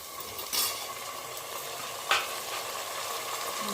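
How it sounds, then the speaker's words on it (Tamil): Tomatoes and onions sauté in a pressure cooker for a country chicken biryani, giving a steady, close sizzle with two brief scraping stir bursts; no voices. "போட்டு நல்லா சாஃப்டாக குழைய வதக்கி எடுத்துக்கோங்க. இந்த அளவுக்கு தக்காளி வெங்காயம் நல்லா குழைய வதக்கணுங்க."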